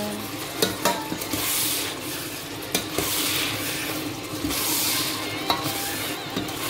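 Garden egg (eggplant) sauce being stirred in a pot, a close scraping of the spoon with frequent sharp knocks against the pot over a steady sizzling bubble.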